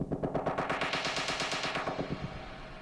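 Snare roll riser on an Akai Force with effects at maximum, a rapid machine-gun-like stream of snare hits swelling and smearing through filtering, loud and continuous throughout.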